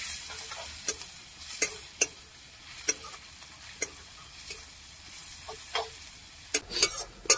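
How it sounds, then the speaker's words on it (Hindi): Garlic, chili and onion fry in a pan for chicken masala, giving a steady sizzle broken by sharp clicks and scrapes of stirring. No one speaks over the cooking. "तो भैया लहसुन मिर्चा प्याज हमारा देखिए बढ़िया से एकदम भुना गया है, हल्का ब्राउन हो गया।"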